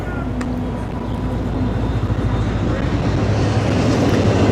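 A train rumbles through near a youth baseball game, a steady low roar with a brief horn-like tone that builds slightly over the few seconds, with faint voices in the background.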